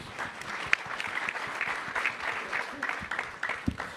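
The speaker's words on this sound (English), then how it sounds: "Give her a round of applause." An audience claps in a steady patter of applause, moderately loud, with some voices mixed in underneath.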